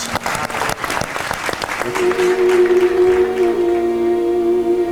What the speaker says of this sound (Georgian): და თუ კი აპლოდისმენტები მაროს.